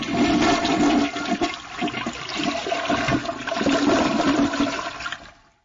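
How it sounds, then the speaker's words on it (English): A toilet flushes loudly and close by, a continuous rushing gush of water that swirls for several seconds before draining and tapering off abruptly. "that toilet flush is loud"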